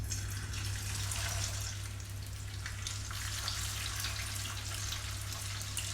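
Chapli kababs shallow-frying in oil over a medium flame, a steady, continuous sizzle and crackle close by, with a constant low hum underneath and no speech.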